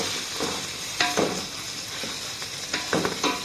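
Ginger garlic paste frying with golden brown onions for Arabic-style keema, a constant close sizzle broken by several sharp spoon scrapes and clatters as the mixture is stirred.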